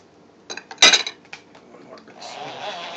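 A spoon clinks and scrapes against a dish while stirring creamy coleslaw dressing, a few sharp close taps followed by soft mixing sounds.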